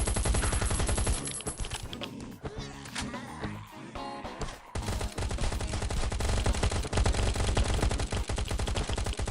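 Sustained rapid automatic gunfire from the survival shooter Last Island of Survival, loud and close, with dense bursts running almost the whole time and a brief chaotic break midway before firing resumes.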